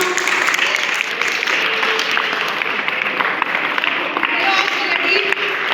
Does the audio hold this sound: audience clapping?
yes